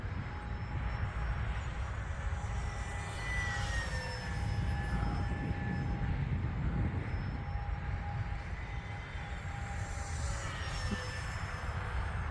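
An RC P-51 Mustang model airplane makes a full-speed pass, a distant, steady engine whine that swells and shifts pitch as it flies by, over outdoor wind rumble.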